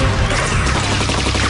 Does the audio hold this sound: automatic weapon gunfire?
yes